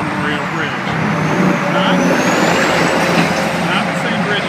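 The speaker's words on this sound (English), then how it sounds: "traffic's going to get heavy again" Heavy road traffic crosses the Memorial Bridge, a loud continuous roar of trucks and cars passing close by with engine rumble and a brief air-brake hiss, heard from the walkway.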